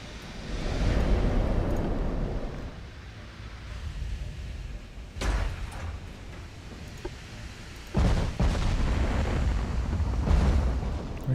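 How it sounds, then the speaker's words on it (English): Heavy naval gunfire in Ultimate Admiral: Dreadnoughts as warships shell a battleship, with loud booming blasts and rumbling that swell, fade and break out again in sharp bursts around five and eight seconds. "We're still firing at the battleship."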